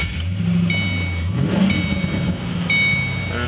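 A 2007 Ford Mustang V8 engine with a 5-speed manual starts and runs with a steady low rumble, revving up briefly partway through, close by and loud throughout.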